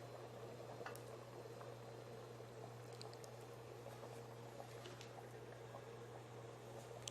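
Mutton salna gravy bubbling at a steady boil in a cooking pot, a continuous close simmer with soft popping bursts and a low steady hum underneath, no voices.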